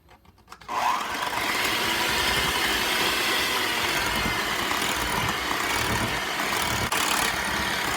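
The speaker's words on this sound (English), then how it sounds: "we're going to mix these together on medium speed until it's well incorporated" Electric mixer beating red velvet cupcake batter on medium speed, starting abruptly and then holding a steady loud whirring drone with no talk.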